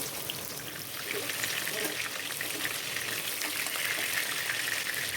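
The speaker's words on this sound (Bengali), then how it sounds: "তারপর কড়াইয়ে তেল গরম করে ম্যারিনেট করে রাখা চিকেনগুলিকে একে একে ভেজে নেব।" Marinated chicken pieces fry in hot oil in a wok, giving a steady, loud crackling sizzle that stays constant from start to finish.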